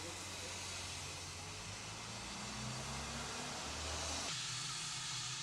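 Faint, steady hiss of a steam locomotive building pressure on a heritage railway in Somerset, with a low rumble underneath and a quiet voice briefly audible.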